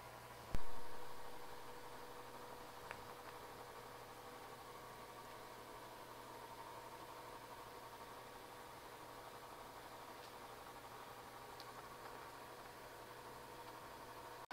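A vacuum marinade tumbler machine for jerky runs with a steady, even drone and a faint higher whine, one soft thump near the start and a click at the end, with no other sounds.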